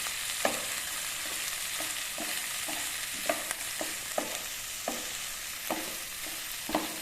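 Sliced onions fry in a pan, a constant sizzle broken by regular scraping knocks of a spoon stirring them, close and alone without any voices.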